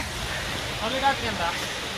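Bhairaghumar waterfall heard nearby as a steady, even broadband rush of falling water, a constant roar with faint voices briefly rising above it.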